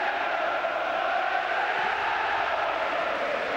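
A stadium crowd roars steadily after a tackle in a football video game, a continuous, broad cheer at moderate volume with no distinct voices standing out.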